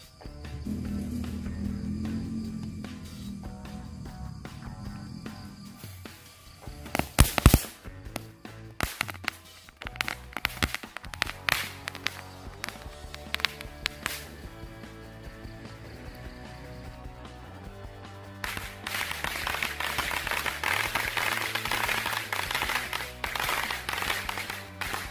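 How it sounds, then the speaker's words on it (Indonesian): Mercon korek and mercon cabe firecrackers burst in a rapid crackling string of sharp pops, irregular and dense at first, then thinning into scattered bangs, followed by a steady hissing crackle, outdoors at moderate distance. "selanjutnya kita nyalakan 2 gepok mercon korek. Dan kita tambahkan mercon cabe"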